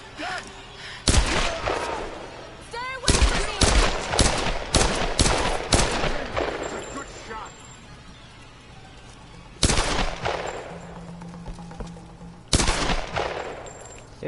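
Gunfire in Tomb Raider Definitive Edition: loud separate shots and short bursts in uneven clusters, with quieter gaps between volleys and a faint background hum.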